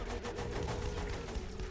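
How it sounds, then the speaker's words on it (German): A sonic boom weapon fired in the video game Saints Row: The Third, a dense, loud rumbling blast with rapid pulsing texture that holds steady for under two seconds, with no talk. "Mit dem Schallknall knall ich euch alle weg."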